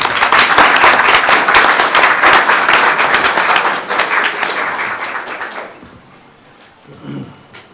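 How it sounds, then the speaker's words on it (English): A round of applause from attendees at a board meeting, brisk, loud clapping that holds steady for several seconds, then thins and fades out, leaving a faint room tone with a brief murmur near the end. "Let's give them another round of applause."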